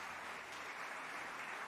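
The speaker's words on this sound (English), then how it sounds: "My background music has a round of applause at the right time." Faint, distant applause sits low in background music from a chat music bot, a soft continuous wash of clapping.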